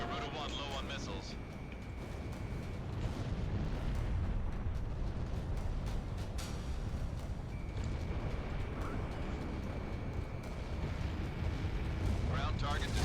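A ground target explodes in Ace Combat 6: a long, heavy rumbling blast with roaring jet noise, while radio voices talk over it.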